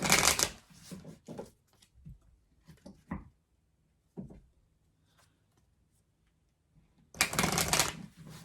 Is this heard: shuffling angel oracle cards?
yes